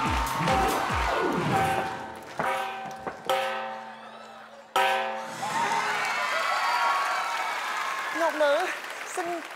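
A studio audience on a Vietnamese TV comedy show claps and cheers in bursts, loud and close, mixed with voices talking and shouting over sustained musical tones.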